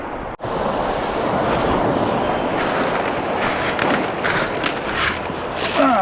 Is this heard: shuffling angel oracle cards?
no